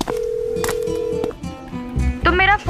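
A phone rings with a steady electronic tone, then a voice speaks briefly over background noise.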